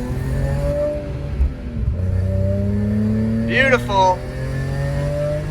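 A BMW E46 M3 with SMG gearbox, its engine droning and revving up and down through quick hard gear shifts, loud and close, while a voice speaks briefly.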